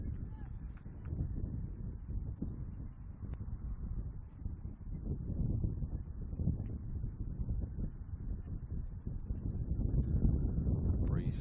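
Wind buffets the microphone during an evening NPL women's football match at Macedonia Park, a steady low rumble that swells and fades throughout, with faint ambient sounds beneath.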